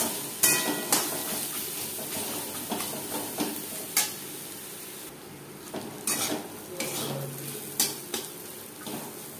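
Grated coconut fries in a pan over low to medium flame, a soft sizzle under repeated scraping strokes of a spoon against the metal, irregular knocks and clinks recurring every second or two, close by.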